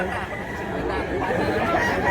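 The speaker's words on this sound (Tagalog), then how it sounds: "Sunoy lang siya, mga idol." A rooster at a Cebu poultry market crows in a sustained call close by, amid steady crowd chatter and market noise.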